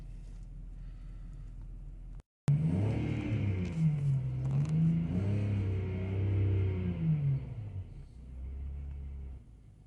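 A car engine idles and revs after an air inlet leak was fixed, running smoothly. A steady close low rumble rises and falls in pitch with a brief dropout near the start, with no misfire.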